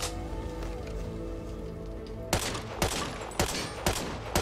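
M1A SOCOM rifle in the video game Back 4 Blood fires five sharp, evenly spaced single shots up close after a quiet stretch of low background ambience.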